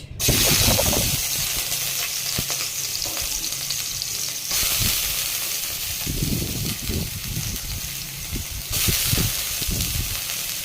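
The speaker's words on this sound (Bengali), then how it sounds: "তেলের মধ্যে দিয়ে দেবো আবার পেঁয়াজ।" Onions fry in hot oil for stuffed bitter gourd, making a loud, steady sizzle close by, with bursts of stirring and scraping in the pan and no talking.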